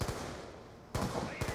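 Gunfire while shooting zombies in Black Ops 2 Zombies on the Die Rise map, a few sharp close bursts spaced across a short moment, loud over quiet game background.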